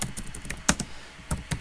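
Computer keyboard typing while entering an error message into a sports data model spreadsheet, with a handful of separate clicky keystrokes spread unevenly over a moment, close and fairly quiet, with no talking.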